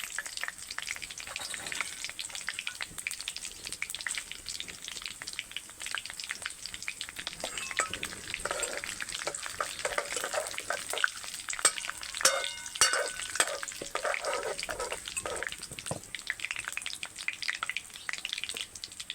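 Dried red chillies and cumin crackle in hot oil, a dense, continuous close-up sizzle with constant popping spatters that swell slightly midway, loud and steady throughout with no voices.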